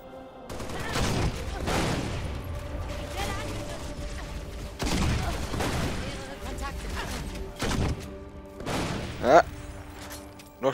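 Repeated explosive bursts from a grenade launcher in Halo: Reach, several thumping blasts spaced across the clip, with a speaking voice running underneath.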